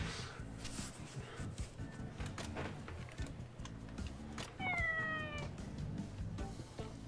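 A cat meows in the video game Like a Dragon: Ishin, giving a short rising and falling meow over steady low background game music and light clicking.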